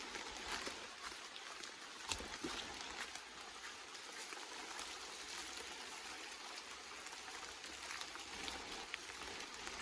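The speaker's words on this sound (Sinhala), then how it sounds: "වහිනවා මේ වෙලාව ටික ටික." Light rain falls steadily on a garden with a large tamarind tree, a soft, even patter and trickle that stays constant and fairly close throughout, with no voices.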